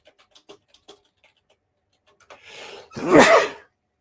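A few faint ticking clicks, then a sharp inhale and one loud, close sneeze.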